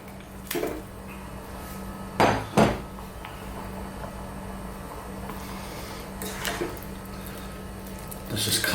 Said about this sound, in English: We're now going to introduce our potatoes.